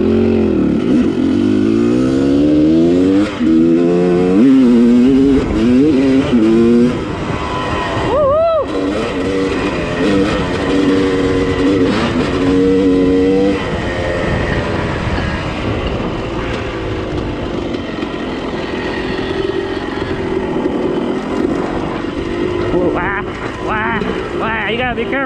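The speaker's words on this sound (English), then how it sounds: "Two-stroke." Two-stroke dirt bikes race past on a trail, their high revving engines rising and falling loud and near, with brief speech and chatter underneath.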